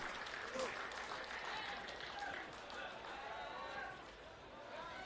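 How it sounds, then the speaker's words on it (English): A rugby sevens stadium crowd roars in astonished disbelief after a try, a dense sustained wash of cheering and applause with commentary voices running over it. "You know it's going to be a good one when the crowd make a noise almost of disbelief."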